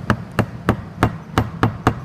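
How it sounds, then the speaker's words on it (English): Seven sharp, evenly spaced taps of a small hammer striking a concrete specimen during a split test, each a crisp knock about a third of a second apart, close and fairly loud with no talking. "So I place this here and I use a small hammer or whichever type of hammer"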